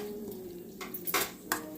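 A mixer jar is picked up in a kitchen while bottle gourd chutney is being made, giving a few short clinks and knocks of hard containers close by, quiet and brief with no talking.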